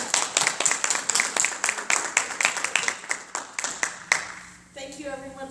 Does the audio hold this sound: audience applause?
yes